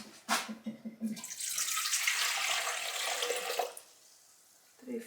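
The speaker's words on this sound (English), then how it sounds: "I'm gonna put in here 350 grams of warm water" Warm water pours from a tap into a bowl for sourdough bread dough, a steady hissing splash lasting a few seconds after some brief clatter, then stopping, fairly close and moderately loud.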